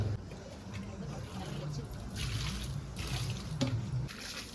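Tap water runs and splashes outdoors as hands and feet are washed, a soft, steady splatter with brief louder gushes, while a voice speaks faintly in the background.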